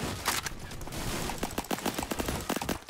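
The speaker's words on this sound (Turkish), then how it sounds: "Ya bu tüfeği çok seviyorum yani. Çok iyi ateş ediyor." Rifle gunfire in Roblox Phantom Forces, rapid bursts of sharp shots in a fast uneven rhythm, moderately loud.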